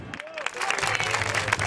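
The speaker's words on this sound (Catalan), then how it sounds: "Ben dit, ben aplaudit" Studio audience breaking into applause on a Catalan television talk show, a brief burst of dense clapping that swells after a short tail of speech and carries on loud and close.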